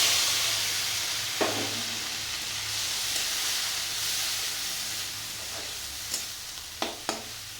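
Grated onion hits hot oil already tempered with cumin seeds, producing a steady, dense sizzle that holds throughout, with a few faint clicks of a utensil against the pan and no talking.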